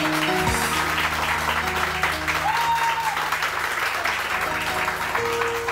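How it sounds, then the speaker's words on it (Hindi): A studio audience on a Pakistani morning TV show applauds steadily, a continuous wash of clapping at moderate distance with a brief tone and faint voices underneath. "बहुत सारी तालियां"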